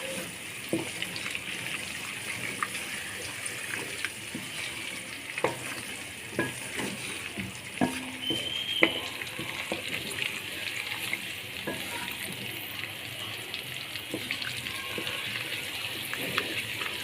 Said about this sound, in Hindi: मेथी डालेंगे और ये पिसी हुई लाल मिर्च डालेंगे। अच्छे तरीके से इनको भून लेंगे हम सारों को।